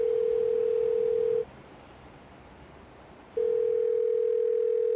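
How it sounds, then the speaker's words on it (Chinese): A steady telephone dial tone hums, cuts out for about two seconds, then resumes over faint background noise, on a call from Singapore to Taiwan. "就会拨电话给台湾的儿子"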